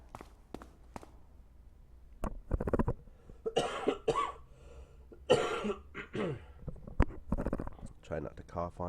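Several short, sharp coughs come in bursts, close to the microphone, mixed with a quiet voice and some rustling.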